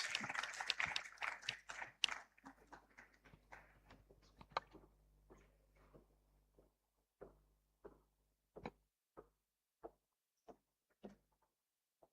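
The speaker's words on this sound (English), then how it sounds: "Come on, guys, can we give a green round of applause?" An audience at a youth indaba gives a burst of applause for a contestant, loud at first and then thinning out into a handful of scattered, isolated claps.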